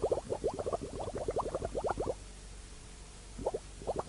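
Water bubbles through a solution in a breath-testing apparatus, drawn by suction from a running tap: a rapid, steady run of gurgling plops, then a pause before a few more bubbles.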